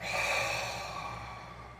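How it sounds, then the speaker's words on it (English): Someone doing deep breathing in the complete breath kata of a karate dojo makes one long, soft breath close by, gradually fading, with no talking. "we breathe in. So you can't breathe in anymore, and breathe out."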